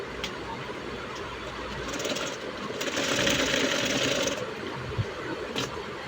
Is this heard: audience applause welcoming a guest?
no